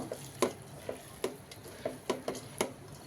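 Dried fish and lentils being mixed by hand with oil, a series of soft, rhythmic squelching and slapping strokes at a fairly even pace, close and quiet, with no voices.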